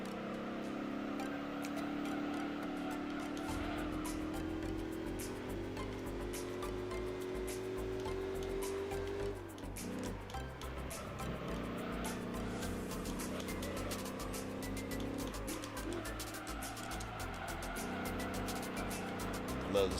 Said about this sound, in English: Love the sound of that engine too.